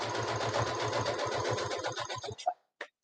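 A sewing machine runs a fast, even burst of stitches on a pink bunny beanie, close and steady for about two seconds, then slows and stops, followed by a couple of small mechanical clicks.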